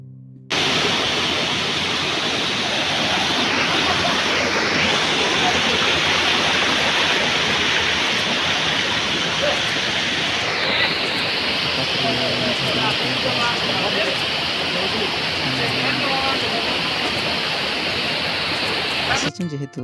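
A waterfall at Harishankar, a temple site in hill country, pours in a steady broadband rush that stays loud and unbroken throughout, with a voice faintly beneath.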